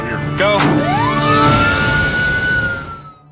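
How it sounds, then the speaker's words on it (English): An ambulance siren wails loudly in a rising, sustained sweep that holds steady, then fades near the end, with voices and general commotion underneath at the scene of a collapsed chef being taken to hospital. "Josh was scared for Aaron as he watched his teammate being sent to the hospital in an ambulance"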